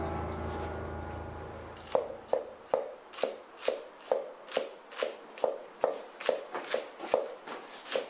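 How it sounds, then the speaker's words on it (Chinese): Knife chopping vegetables on a board in a home kitchen, about a dozen fairly evenly spaced crisp chops after a soft shuffling start, close and moderately loud with no talking. "系啊，切菜啊。"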